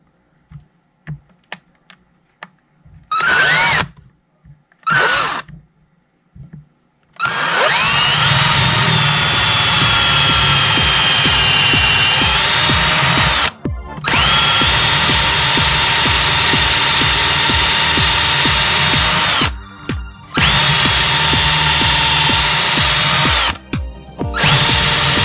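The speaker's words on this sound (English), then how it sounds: "So go ahead and drill this real quick." A power drill whirs in short test bursts, then runs loud and sustained drilling through wood, pausing a few times before resuming, with no talking.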